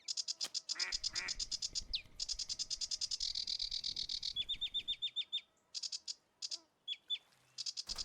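Birds chirp in the fishing game Russian Fishing 4, with rapid repeated high tweets and trills layered over croaking frog-like calls, dense and close ambience with no talking.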